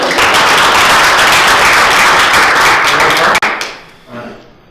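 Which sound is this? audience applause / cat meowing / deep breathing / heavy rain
audience applause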